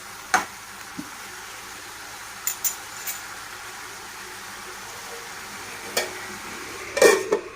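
A broad bean stir-fry is mixed in a pan, with a few sharp spatula scrapes and taps scattered over a low, steady background hiss, clustering near the end.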